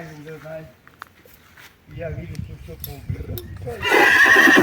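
A horse whinnies near the start during a stallion and mare breeding, followed by someone talking and then a louder, breathy snort or rustle at the end.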